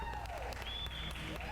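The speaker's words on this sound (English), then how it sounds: "Wade's got quite a cheering section there too" A crowd at a cutting horse competition bursts into applause and cheers for a rider, a dense, steady wash of clapping with a few shrill whistles riding over it.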